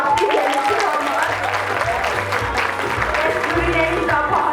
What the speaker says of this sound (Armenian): եկեք Լինային և Նիկային բարձր ծափահարել